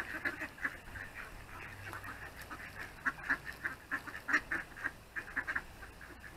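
Mallard ducks being fed at a pond quack in a steady, rapid series of short calls, moderately close and fairly soft, with quiet ambient noise underneath.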